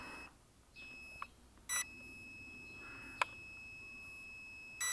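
A quadcopter's lost-connection alarm sounds short electronic beeps at irregular intervals over a faint steady tone, thin and fairly quiet.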